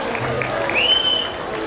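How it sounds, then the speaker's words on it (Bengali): The audience at the Sarisha agricultural and self-reliance fair in Diamond Harbour claps in a short, steady burst, with a thin high tone sliding over the noise partway through. "জোরে হাততালি প্রথমেই চাইব।"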